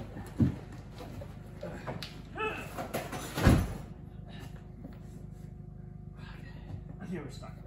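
On a lowered 3G Mitsubishi Eclipse, a car door is pushed hard and slammed twice, with sharp thuds around one spot and again a few seconds later as people talk nearby.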